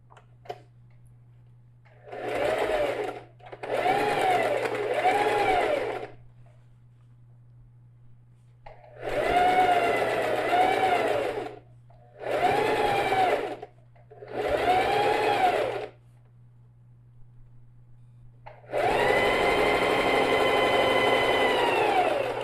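A sewing machine stitches a backpack in repeated bursts of rapid, whirring mechanical stitching with short pauses between runs and a longer final run, close and clear over a low steady hum.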